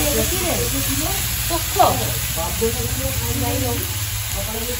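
Egg and potato curry with whole garam masala and bay leaf fries in a pan with a soft, steady sizzle and occasional stirring, fairly close, under a low background hum.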